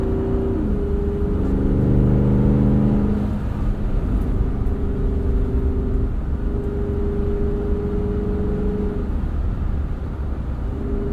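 A Jeep Wrangler on wide 315 section tyres drives through snow, its engine droning steadily with a few revs rising and settling over a constant rumble of road and tyre noise, heard from inside.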